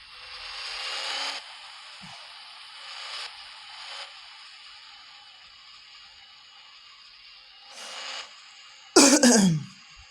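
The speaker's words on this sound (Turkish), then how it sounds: "Arkadaşlar bazen öksürüyorum kusura bakmayın" Several muffled coughs and throat clearings spaced out over quiet background hiss, ending with one louder, close, rasping cough.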